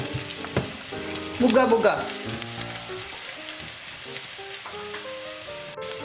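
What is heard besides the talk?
sautéing chicken roll filling in a pan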